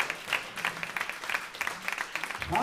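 Audience applauding after an opera performance by conservatory students, steady clapping from a moderate-sized crowd with a few louder individual claps, continuing throughout.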